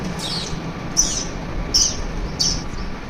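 A child imitates a sparrow with her voice, giving three or four short, high chirps spaced about a second apart, close and fairly loud, with no talking.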